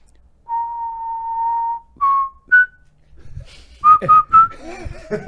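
A person whistles a short, wavering tune of sustained and clipped notes, close by, then more quick whistled notes ring out over background chatter.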